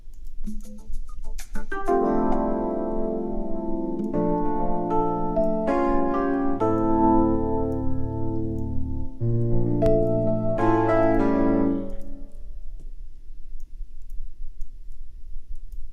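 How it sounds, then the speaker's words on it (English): An AI-generated keyboard part from Suno, heard isolated: sustained chords and melodic phrases at steady loudness for about twelve seconds, then ringing down to near silence. "let's listen to just the keyboard that came from Suno"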